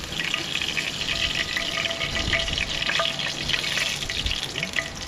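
Steady sizzling and crackling of food frying in hot oil, continuous and fairly loud, with faint clinks and a watery hiss throughout.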